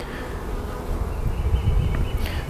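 Honey bees buzz around an open hive during an inspection, a dense close-up hum of many wings that swells slightly midway and carries on steadily without talk.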